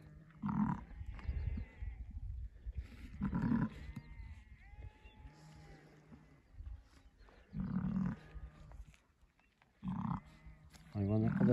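A ewe that has just given birth bleats in repeated bursts, roughly every two to three seconds, alongside other livestock in a snowy mountain farmyard. People talk between and over the calls.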